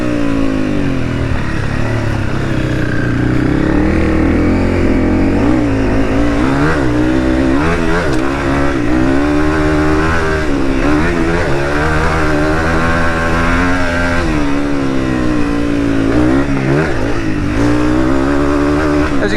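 Honda CRF300 and KTM 500 dirt bikes riding off-road, engines revving and surging continuously with loud rising and falling throttle bursts, close and steady throughout.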